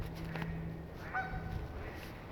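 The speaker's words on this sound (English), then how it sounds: "I come out here and the darn geese are talking over me" Geese honking outdoors, a few calls rising over steady background noise, fairly distant and moderate in level, with no talk.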